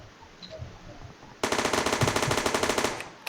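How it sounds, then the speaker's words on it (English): A Tommy gun in a Unity shooting game, styled after Counter-Strike, fires a sudden rapid burst of loud, evenly spaced shots after a quiet start, ending abruptly with a final click. "Now as you can see it plays the reloading sound"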